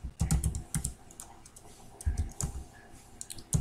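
Quick bursts of keys tapping on a computer keyboard come in short clusters with brief pauses, close and fairly quiet, as data is entered into SAP.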